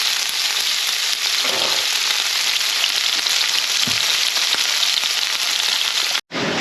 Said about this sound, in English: while the beef's browning off